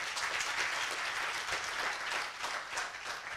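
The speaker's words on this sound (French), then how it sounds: "On va l'applaudir très très fort." An audience at an awards ceremony in Côte d'Ivoire claps warmly in a continuous, even wash, heard fairly faintly from a distance with no voices over it.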